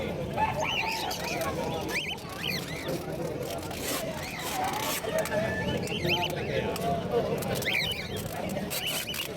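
Caged birds chirp and twitter in short bursts throughout a busy Malabon pet market, their calls mixed into a constant crowd murmur with people talking nearby.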